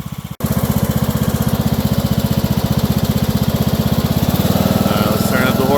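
A lawn mower fitted with a DIY leaf bagger starts and runs loud and close, its engine chugging in a fast steady pulse that rises slightly as it revs up near the end.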